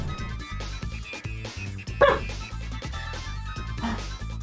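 A dog barks and yips repeatedly in a rhythmic series over a steady low hum. The barks are fairly close and moderately loud, with a slightly louder yelp midway.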